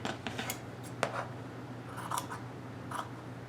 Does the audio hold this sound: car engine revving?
no